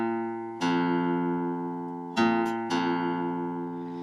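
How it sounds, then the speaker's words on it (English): Two guitar notes ring out, a fretted note on the sixth string and the open fifth string, plucked in turn for tuning comparison; clear sustained tones struck one after another, decaying slowly, close and alone. "comparing the note that I'm making on the sixth string and the open fifth string"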